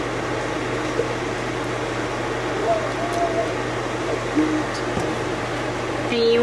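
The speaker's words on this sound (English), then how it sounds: "It's the vent on my microwave and I can't turn it off." A steady whirring microwave vent fan hum drones on without a break in a kitchen, a constant broadband rush over a low electrical hum, fairly close and even in level.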